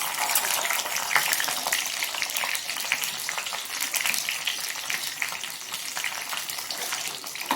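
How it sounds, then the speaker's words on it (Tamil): Chana dal and green chillies sizzle steadily in hot oil, a dense, continuous crackle close by with no voices. "முதல்ல கடலைப்பருப்பு கொஞ்சம் நல்லா பொண்ணு ஆஃப் பதத்துக்கு வதக்கிடுங்க"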